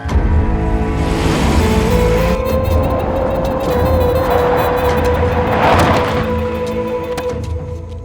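A car engine runs loud and close as the vehicle pulls away, its note rising and holding over a dense, busy background before slowly fading toward the end.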